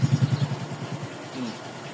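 A Raider J FI 115 motorcycle engine, recently repaired after a broken connecting rod, running close by with a rapid pulsing idle that settles into a softer hum, with voices talking over it.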